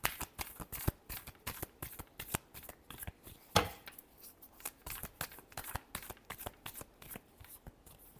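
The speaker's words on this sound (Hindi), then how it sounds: "Last shuffle." Tarot cards shuffled by hand, dense rapid riffling and slapping clicks that keep going for several seconds, faint and close, with one sharper snap partway through.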